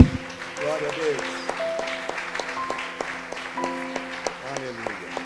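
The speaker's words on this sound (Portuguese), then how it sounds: "Aplaudam o Senhor." A church congregation claps along during worship, the clapping partly under loud sustained music with singing-like tones, keeping a loose beat for several seconds.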